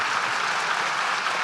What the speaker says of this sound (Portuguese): Para eles eu peço já uma salva de palmas pela disponibilidade.